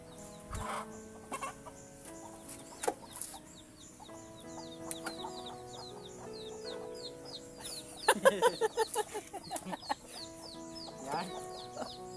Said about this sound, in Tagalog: tumagbang na yung manok